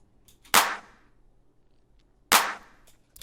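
Two layered clap samples hit together as one snare, struck twice about two seconds apart. Each hit is a crisp, bright burst with a short noisy decay, and no voices are heard.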